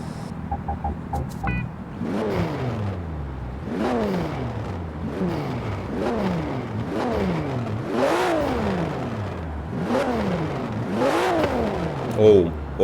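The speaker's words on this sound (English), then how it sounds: "let's speak the sound of this engine" A Porsche 911 Turbo S engine revs repeatedly, loud and close, with a series of rising and falling sweeps as the throttle is blipped again and again, ending in a sharper burst.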